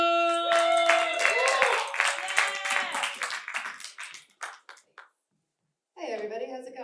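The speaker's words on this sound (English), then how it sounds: "get the round of applause going. Get it going for my girl Katie Blow!" Comedy club audience clapping for a comedian as a singer's voice and music play over it, the claps thinning into scattered hits before a brief silence and then talking resumes.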